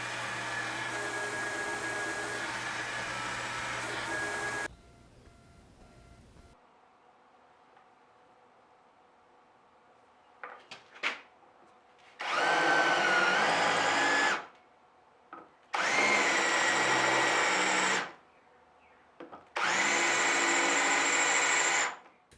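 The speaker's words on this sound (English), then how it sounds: "Instead, straight over to the grinder to remove the excess and get it to its final shape." A belt grinder removes excess metal to shape a part for a knife-sharpening tool. It runs in a steady loud roar for several seconds, stops, then returns in three separate loud bursts with brief quiet gaps between them.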